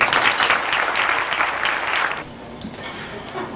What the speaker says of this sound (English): I hope you'll greet her with a nice round of applause